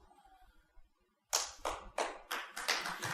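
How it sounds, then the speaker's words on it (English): A small handful of hands clap in a brief, uneven burst after a quiet pause, each slap distinct and fairly close, with no talk over it. "After all of that resounding applause."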